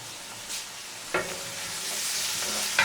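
Onions sauté over high heat with thyme, bay leaf, parsley and a little leek for fish soup. A steady, hissing sizzle runs close by, broken by a few sharp stirring clanks against the pot.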